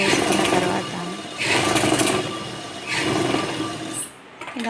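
Sewing machine stitching a small hem on the lining of a baby skirt, running in three loud bursts of rapid, buzzing stitching separated by brief pauses, ending with a short quieter stop.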